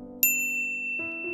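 A bright notification bell dings once, a clear metallic chime with a long ringing tail, sounding over a steady musical backdrop.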